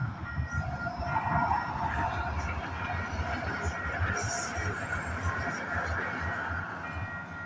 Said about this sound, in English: the train is all set to go. Yeah. This is actually the train station.